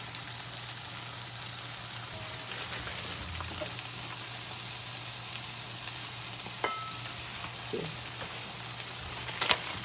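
Noodles for Indonesian Mie Goreng fry in a hot pan with a steady, close sizzle and crackle that stays even from start to finish, with no talking.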